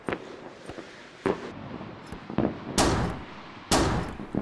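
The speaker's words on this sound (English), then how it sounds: "So now we'll try an on-map light mortar and see how that does." Light mortar rounds from an on-map mortar land in the video game Combat Mission as several sharp, separate impacts at irregular intervals, the later blasts louder, over a quiet background.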